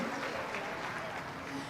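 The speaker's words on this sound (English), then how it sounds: "let's go ahead and give these young ladies a big round of applause" A crowd at a steer and beef cattle show gives a round of applause, dense steady clapping heard at a moderate distance with no pauses.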